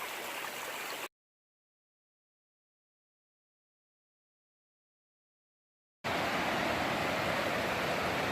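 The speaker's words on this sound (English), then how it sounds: "You can see through there the waterfall." A waterfall along the Appalachian Trail near Springer Mountain gives a steady, distant rushing hiss, which cuts out completely for about five seconds in the middle and then resumes slightly louder.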